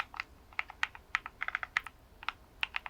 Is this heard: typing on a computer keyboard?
yes